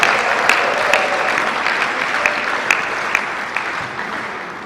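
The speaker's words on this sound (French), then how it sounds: "je demande à Madame Mado de s'élever pour une fois, pour qu'elle soit applaudie." An indoor audience gives continuous applause, a dense and loud wash of clapping with a few sharper individual claps standing out, steady throughout.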